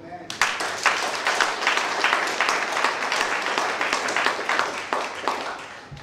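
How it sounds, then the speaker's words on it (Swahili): A church congregation at a Sunday service of P.C.E.A. Wendani in Kenya bursts into applause: dense, steady clapping from many hands, close and loud, sustained for several seconds. "Tupigie Yesu makofi. Makofi mazuri."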